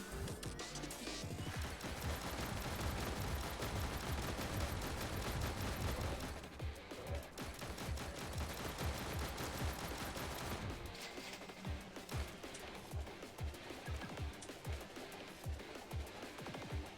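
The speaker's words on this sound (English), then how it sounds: "There we go. Machine gun." Machine gun firing in the video game Snezhinka: Sentinel Girls 2, dense sustained bursts of rapid gunfire filling the stretch, briefly easing mid-way before continuing as a slightly sparser rattle of shots.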